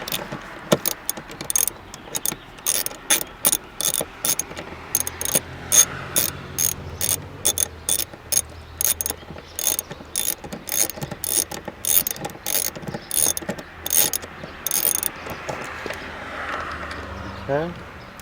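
A ratchet wrench loosens bolts while an oxygen sensor is replaced on a Lexus: quick repeated clicking strokes in steady bursts, close and crisp, with someone talking now and then.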